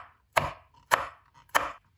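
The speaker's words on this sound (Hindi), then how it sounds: "यहाँ पे ग्रीन चिली ली है 5 पीस, इसकी भी कटिंग करेंगे।" Five green chilies chopped on a board, with three sharp, evenly spaced knife strikes close by and quiet gaps between them.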